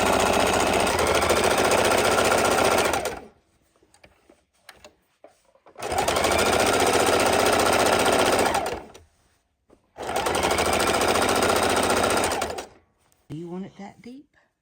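A sewing machine stitches a zigzag reinforcement seam along the side of a quilted book bag, running in three loud sustained bursts of a few seconds each, with short quiet pauses between them and brief handling noise at the end.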